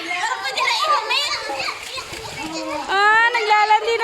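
A person jumps into a chilly outdoor swimming pool at an eighteenth-birthday party, with splashing and water noise mixed under excited children's and adults' voices throughout.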